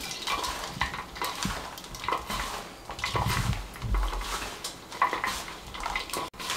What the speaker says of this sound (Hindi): इसको अच्छे तरीके से हम मिक्स कर लेंगे